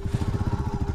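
A group of motorcycles on a rain-slicked highway near a forest rumbles close by, its engines throbbing in a steady, rapid low pulse with no voices over it.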